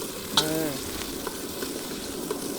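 Onions fry in hot oil in a pan for a fish curry, a steady close sizzle and crackle with a brief stir and faint voice-like tones early on.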